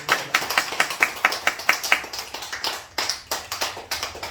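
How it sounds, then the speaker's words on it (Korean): A church congregation claps together during a Sunday worship service, sharp irregular hand claps in quick succession that rise into dense applause, then thin out and carry on in looser bursts. "우리 한번 격려에 한번 박수 한번 치겠습니다"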